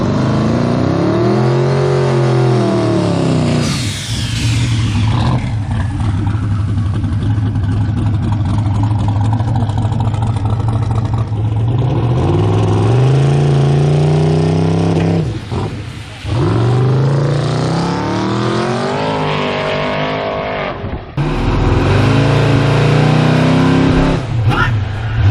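A turbocharged LS-engine car making its first drag strip pass of the season, engine roaring loud and close as it climbs through gears with rising pitch, brief dips at shifts, then surging again.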